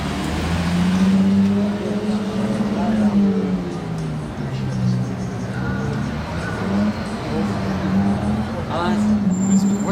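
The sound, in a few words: Lamborghini Aventador convoy with Capristo exhaust passing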